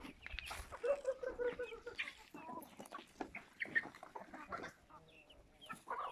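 Hungry chickens clucking and squawking while they eat homemade feed, many birds close together in busy overlapping calls, with no one talking.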